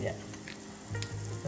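Fenugreek powder sizzles and crackles steadily in a hot pan as it is stirred, the base for a brinjal and curd dish; a close, continuous frying hiss with soft scraping swells.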